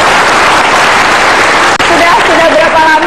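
Studio audience applause on an Indonesian television talk show, a dense, steady wash of clapping that fills the whole clip, with a brief dip near the middle and a voice emerging over it toward the end.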